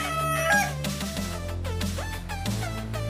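A white Kelso rooster crows loudly and close in a backyard farm, with other fowl clucking around it and a drawn-out, wavering call.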